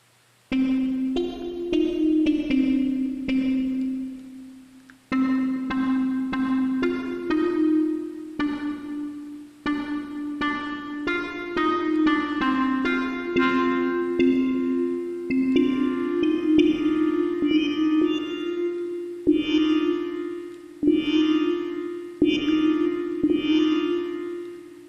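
A Phase Plant software synth plays a tone shaped by a sawtooth series modulator: a bright, buzzy harmonic-rich line of repeated notes and chords in uneven rhythm, with a few gaps and a slight reverberant tail, no voices.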